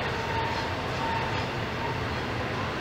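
A long freight train hauled by two locomotives climbing a long grade at Altoona's Horseshoe Curve, heard as a continuous broad rumble and rolling roar with faint wheel squeal, steady and alone.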